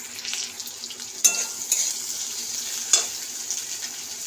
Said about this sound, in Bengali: তেলটা গরম হয়ে গেছে, তার সাথে পেঁয়াজটা দিয়ে দেবো।